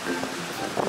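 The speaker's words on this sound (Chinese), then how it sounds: "大风还是很大" Strong winter wind sweeps a seaside stretch of Jeju Island, making a steady, broad roar with surf-like rushing and no voices.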